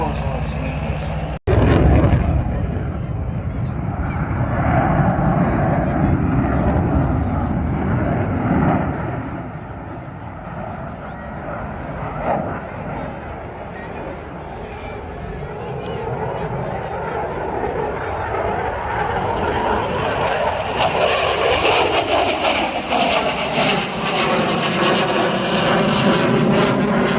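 Piston engines of a Bell 47 helicopter and a Westland Scout with Rolls-Royce cylinders run at an air festival, a steady droning rumble rising and falling in the open air, with a voice talking over it.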